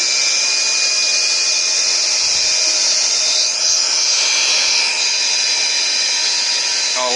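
A grinding machine runs with its spindle feed engaged, giving a loud, steady high-pitched whine and hiss with a constant tone, unbroken from start to finish, with a brief sweeping change near the end.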